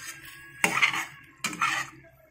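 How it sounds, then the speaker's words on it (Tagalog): A utensil scrapes and clatters against a metal pan while cooked sardines are stirred, two distinct bursts of scraping about a second apart, close and fairly loud, with no voices over them. "So, halu-haluin na lang."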